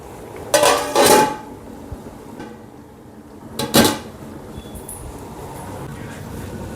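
Steel plate set over a boiling pot of rice as a lid, giving two clattering metallic clanks a few seconds apart, close and fairly loud over steady kitchen hum.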